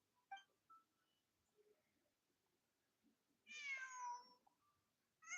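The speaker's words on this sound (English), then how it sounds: "Just a cat." A cat in Genshin Impact meows once clearly with a drawn-out, falling cry, preceded by faint short chirps and small sounds in an otherwise quiet scene.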